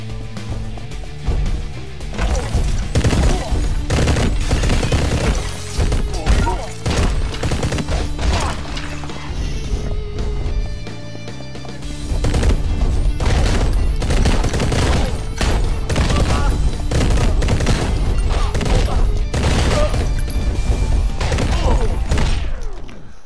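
Dense, continuous gunfire from the video game Mr. Shifty, with rapid overlapping shots and thuds that run almost nonstop, loud and close, briefly dropping out once before resuming.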